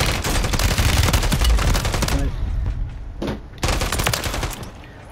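Rapid automatic gunfire in the Call of Duty video game, loud dense bursts of shots rattling continuously, then a brief lull before another close burst.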